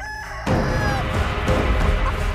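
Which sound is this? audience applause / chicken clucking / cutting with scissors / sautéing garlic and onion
chicken clucking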